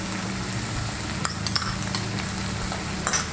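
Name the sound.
stirring sugar into radish and mustard-poppy seed curry in pan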